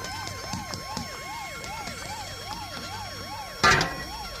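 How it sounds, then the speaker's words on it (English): A police siren yelps in rapid, regular rising-and-falling cycles, with a sharp bright clank near the end. "the turtles heard the whine of police sirens"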